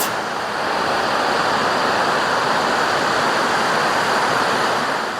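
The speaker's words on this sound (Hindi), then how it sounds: "बीच में नदी बह रही है।" A mountain river flows through a remote hill valley, a loud, dense, steady rush of water that fills the whole clip without letting up, close and unbroken, with no voices.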